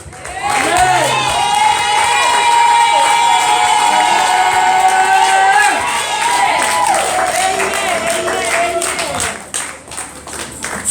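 A church congregation in Arusha, Tanzania cheers and shouts for Jesus, a loud sustained crowd roar with whoops and some clapping that holds for most of the stretch before easing slightly near the end.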